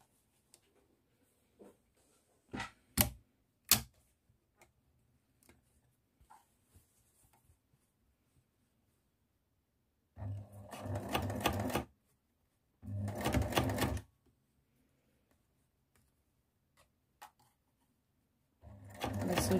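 A sewing machine topstitches fabric about 1 mm from the edge on a homemade wipes basket, running in two bursts of about a second and a half each, with a few sharp clicks and handling taps in the quieter stretches.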